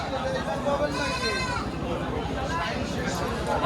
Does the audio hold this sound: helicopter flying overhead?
no